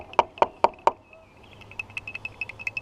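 A dug-up coin is tapped four times in quick, sharp succession, each strike ringing briefly, followed by a run of lighter metallic pings with a thin sustained ring.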